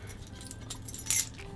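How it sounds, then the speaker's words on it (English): New car keys jingling and clinking briefly up close, with a brighter metallic rattle near the end and no speech over it. "we also got new keys. Some new keys over here."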